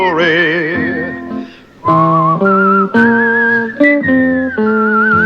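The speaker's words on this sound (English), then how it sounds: "whistle a tune that'll carry me to Tombstone Territory" Someone whistles a melodic Western tune, loud and close, in clear sustained notes with slides and short breaks between phrases, alone without talk.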